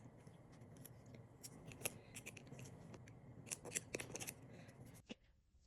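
Scissors snip through double-sided foam tape from Dollar Tree, cutting it in half, a steady run of close, crisp clicks and cuts that stops abruptly near the end, with no talking.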